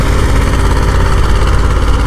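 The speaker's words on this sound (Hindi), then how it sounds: "पुराना बेसक है लेकिन ताकतवर पूरा है, पूरी जान लगा ली ट्रैक्टर ने" An old Escort 335 tractor engine works hard pulling a tiller, a loud, steady, close diesel rumble with continuous vibration and no pauses.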